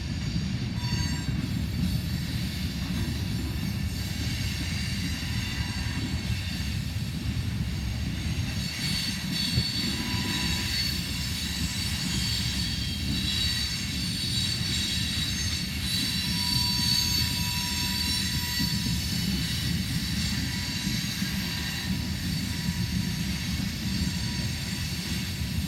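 A train rolls past at Bellevue with a steady, heavy rumble. Shrill wheel squeals rise and fall over it for nearly half a minute, with no voices.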